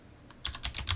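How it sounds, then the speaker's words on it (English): Fast typing on a computer keyboard while programming a football simulation, a quick close burst of sharp key clicks that starts after a brief quiet moment. "When I'm typing fast, I don't spell worth a dang."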